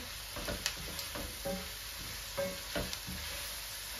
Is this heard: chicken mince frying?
yes